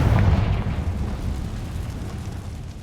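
A Confringo spell in a Harry Potter video game goes off as a single loud, deep blast that rumbles and slowly fades.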